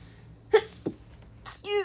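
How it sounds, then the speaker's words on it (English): A single sharp sneeze after a couple of short breathy catches, heard close up, followed by a brief voiced sound. "Uh-oh, I have a sneeze coming."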